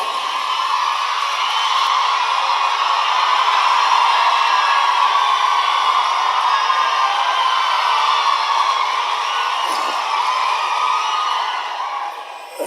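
A large audience at a memorial ceremony for the Maruthu brothers applauds a welcome address speaker, sustained dense clapping and crowd noise lasting about twelve seconds without pause.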